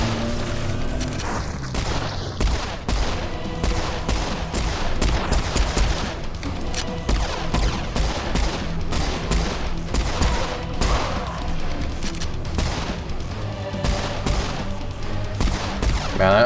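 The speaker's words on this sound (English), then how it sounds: "Man, I love dual wielding the pistols" Dual pistols firing in Serious Sam 4, a rapid, relentless stream of shots mixed with booming explosions and game noise, loud throughout.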